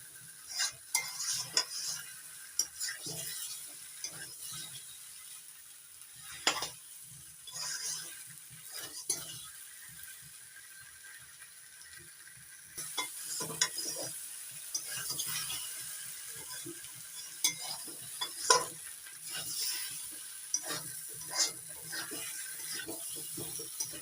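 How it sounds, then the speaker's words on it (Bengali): Gathi kochu (taro) stir-fried with spices in a pan: a steady sizzle with scraping, clinking stirring strokes that come in irregular bursts, close and fairly quiet. "মশলার সঙ্গে গাঠি কচুটা সুন্দরভাবে কষিয়ে নিতে হবে"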